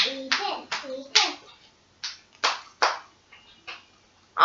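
Hands clapping in a quick, uneven run of sharp claps, pausing and starting again, with a voice mixed in, at a New Year bird's eye chilli eating challenge.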